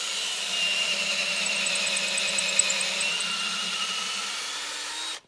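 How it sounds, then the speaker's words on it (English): A cordless drill bores steadily into a very dense, rock-hard wooden post, a continuous strained whine held for about five seconds close by that cuts off abruptly at the end. "It's very difficult to drill into, and it's taking a toll on my battery here."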